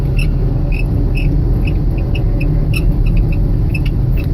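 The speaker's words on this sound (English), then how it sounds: "I apologize for the squeaking noise." Repeated short squeaks from a loader's seat, irregular and fairly faint, over a constant low rumble of the running loader.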